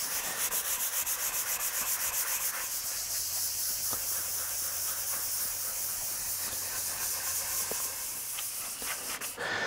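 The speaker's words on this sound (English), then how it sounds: "The goal with level sanding is to reduce the high spots and make them level with the low spots." Continuous steady level sanding of a Precision Bass guitar body, a rough rhythmic rasp of sandpaper scrubbing back and forth across the surface, loud and close with no talking.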